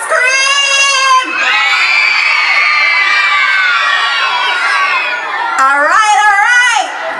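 Primary school children at a crime and violence school tour event scream and cheer together, a loud, sustained crowd roar of high voices that dips briefly and then surges again.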